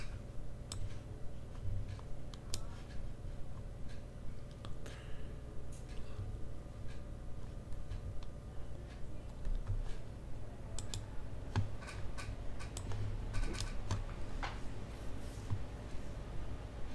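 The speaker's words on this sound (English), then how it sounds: "My keyboard is not working." Computer keyboard keys clicking in scattered, irregular taps, sparse at first then busier, close and fairly quiet over a steady low hum, with someone speaking briefly.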